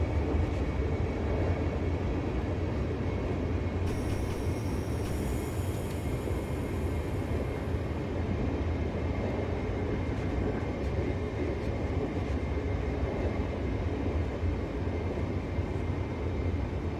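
In a Train Simulator Classic game set in northern Germany, an Interregio train hauled by a class 120 electric locomotive gives off a steady, loud rail rumble with a high whine partway through and no voices.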